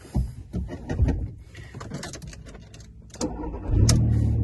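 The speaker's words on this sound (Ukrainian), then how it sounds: "мотор тепер заведемо" A used car's engine is started after some clicks and jangling, then settles into a louder low running rumble nearby, with no one speaking.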